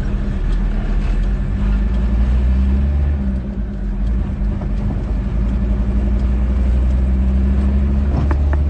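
Road traffic heard from inside a trotro minibus: a steady low engine rumble and idling drone runs throughout, with passing vehicles and faint rattles over it.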